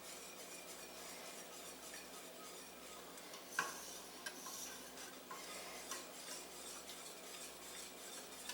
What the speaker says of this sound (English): Once a lot of stuff in the pan, it's not as loud as it is when I'm really trying to whisk something.